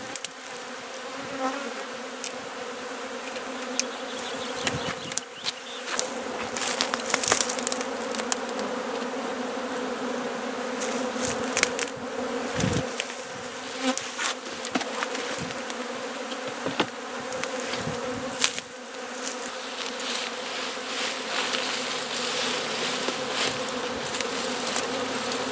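Honey bees buzz around a beehive, a continuous droning hum with individual bees zipping close past now and then, steady and moderately loud throughout with no voices.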